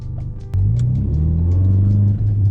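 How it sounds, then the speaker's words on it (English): A Ford Focus RS pulls hard at full throttle, its engine note rising as a deep, loud, continuous rumble with a climbing drone heard from close up, no talk over it. "I haven't done like an actual, like, almost a full throttle pull in such a long time."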